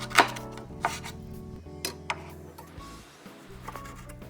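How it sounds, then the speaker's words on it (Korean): A knife chops scallions and rinsed kimchi on a cutting board, a few sharp distinct knocks followed by softer repeated cuts, close and clear with no talking. "쪽파도 썰어주고 김치는 깨끗이 헹궈서 물기 짜고 적당한 크기로 잘라주세요"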